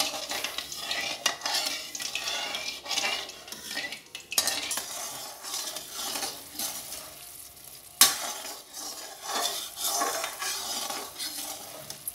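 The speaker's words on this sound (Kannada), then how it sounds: "ಇದನ್ನು ಇವಾಗ ಸಕ್ಕರೆ ಕರಗೋ ತನಕ ಇದನ್ನು ಕಲಕ್ತಾ ಇರೋಣ" A spoon scrapes and stirs sugar syrup in a pan while the sugar melts for Mysore pak, with continuous swishing, soft bubbling sizzle and a few sharp metallic clinks against the pan.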